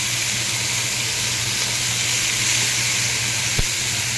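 Ginger-garlic paste sizzles in hot oil while a Bengali fish kalia is cooked, a steady, close frying hiss with one brief tap partway through.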